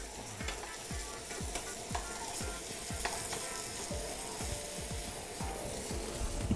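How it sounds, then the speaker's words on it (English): Meat sears in a hot pan with a steady, close sizzle, punctuated by repeated low knocks and scrapes of pieces being turned, with no talking. "Just sear them off real quick."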